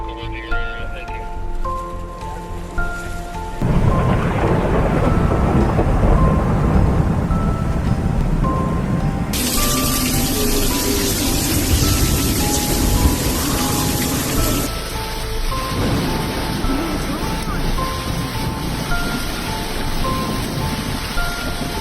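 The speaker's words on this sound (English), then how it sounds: "The storm is crazy." Heavy rain pouring during a Las Vegas thunderstorm, a loud dense roar that shifts in character across several cuts, with low rumbling and a softer, more tonal stretch at the start.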